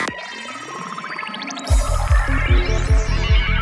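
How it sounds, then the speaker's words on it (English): A reversed crash cymbal swells upward under a high-pass filter sweep as a smoothing transition, then gives way to a loud electronic track with booming kick drums and bright synths. "I like to make things smoother by adding a reversed crash"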